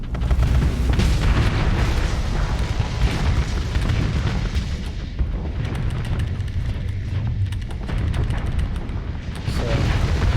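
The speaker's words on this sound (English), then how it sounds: "Let's go and just Reaper torpedo this venture." Reaper torpedoes blowing up a Venture-class ship in the space game Starsector, with loud, continuous booming blasts and rumbling detonations filling the whole stretch.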